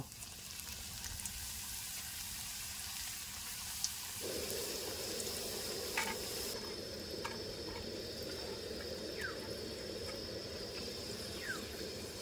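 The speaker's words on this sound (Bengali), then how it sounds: "আওয়াজটা বুঝতে পারছেন ঝনঝন ঝনঝন করছে" Thin-sliced potato chips fry in hot oil, giving a steady, dense hiss with faint crackles that runs throughout, close and even, with no one talking.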